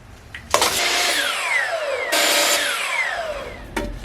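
A power saw cuts wood pieces to size for a school bus conversion. There are two long, loud whining passes through the wood, each starting abruptly, with short pauses and handling knocks between them.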